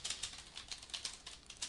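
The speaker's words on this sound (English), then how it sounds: "I'm just going to be typing away" Rapid keystrokes on a computer keyboard tap out in a quick, irregular rhythm of light, close clicks, fairly quiet, with no talking.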